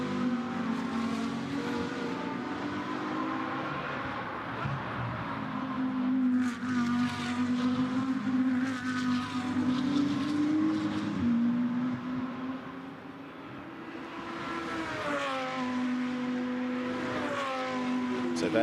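GT2 race cars at Monza rattle over the curb out of the Roggia chicane, their engines loud and rising in pitch as they accelerate away, one car following closely behind another.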